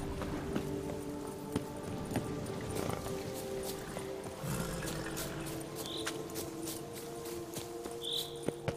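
The horse Roach gallops in the video game The Witcher 3: Blood and Wine, with a steady, rhythmic clip-clop of hooves running throughout at moderate volume over ambient game sound.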